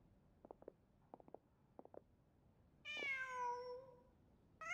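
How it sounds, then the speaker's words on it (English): A cat in a video game gives a single clear, drawn-out meow near the end, preceded by a few soft short taps, with another meow starting just as the sound cuts off. "Just a cat."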